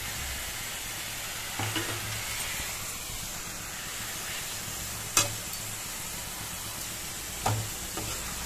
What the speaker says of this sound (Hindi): और अब बस 2 से 4 मिनट इसे भूनना है